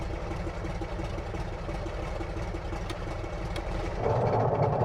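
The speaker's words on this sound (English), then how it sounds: "the Gypsy Major being well depicted, along with propeller animation being very well synchronized, especially at startup and during low power" The de Havilland Tiger Moth's Gipsy Major engine idles in Microsoft Flight Simulator, a steady low throbbing rumble that swells louder near the end, with no talk.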